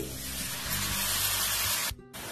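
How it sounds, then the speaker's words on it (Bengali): Water splashed into hot frying spices for a fish-stuffed kachori filling sets off a loud, steady broadband sizzle that fills the clip, cutting out briefly near the end before resuming. "খুব সামান্য জল দিচ্ছি,"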